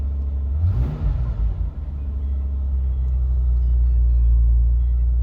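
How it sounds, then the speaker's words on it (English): A 1979 Opel Monza engine idles slightly high with a steady, close, low rumble and a brief louder surge near the start before it settles into an even hum. "It's idling a bit high."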